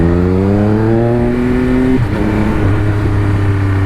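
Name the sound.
Triumph Speed Triple RS motorcycle engine, loud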